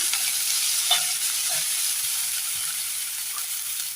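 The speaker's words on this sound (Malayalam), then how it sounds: "ഇഞ്ചി, ചെറിയുള്ളി നന്നായി ഒന്ന് വഴറ്റിയെടുക്കണം." Ginger and shallots sauté in a hot pan with a steady, bright sizzle, broken by a few soft scrapes of a spoon stirring near the mic.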